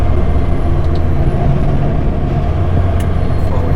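A heavy truck grinding down a steep grade with an engine-brake roar, loud and unbroken throughout, and a faint high whine riding above the low rumble.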